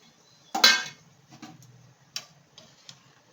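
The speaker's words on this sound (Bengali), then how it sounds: "এবার ভেজে রাখা পনিরটা আমি এর ভিতর দিয়ে দিচ্ছি" Fried paneer is dropped into a pot of cooking taro, bringing a sharp clink of metal utensil against the pot followed by a few softer taps and clinks spaced out in a quiet kitchen.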